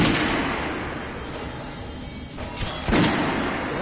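Gunfire from weapons tried out at a shooting range in the video game Metro Last Light, with loud, close shots aimed at training dummies; a couple of sharp blasts stand out near the end over steady background noise.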